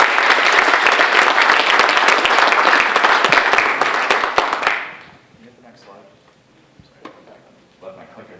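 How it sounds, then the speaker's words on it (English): A conference audience at a keynote breaks into dense, loud applause that runs about five seconds and then cuts off, followed by quiet room noise and a few soft sounds. "let's give a round of applause for Robert"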